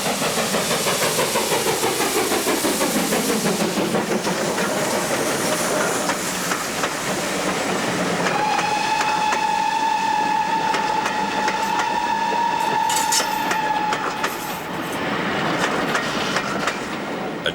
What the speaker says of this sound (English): A train approaches Glundafrydwy on a stretch of line reopened in 1992.